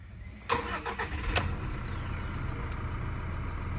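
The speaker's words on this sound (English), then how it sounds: "Now for this to start, you need to put your foot in the clutch and start it." A 2018 Toyota Hilux with a 2.4L diesel and manual gearbox cranks and starts with a short burst, then settles into a steady idle rumble that stays close and fairly quiet.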